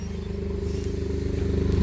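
Engine of a Chevrolet Colorado running after start-up, fitted with a combustion-improvement turbo device, a steady close idle with rhythmic low pulsing and a slight clatter that builds gradually in loudness.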